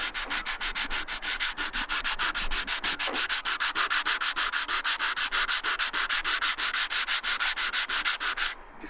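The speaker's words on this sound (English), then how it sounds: "dry sand them." Dry sanding of rusty bits where the anchor sat on an old KTL Centaur boat, a steady rhythmic back-and-forth scrape repeating about four times a second, close and continuous, with no talk.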